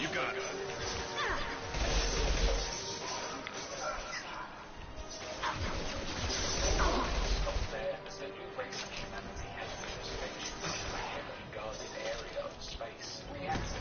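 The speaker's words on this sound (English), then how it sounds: "I hear doggy, but I don't see doggy." A dog barks in repeated bursts within a noisy gaming session, partly masked by crashes, game effects and people talking.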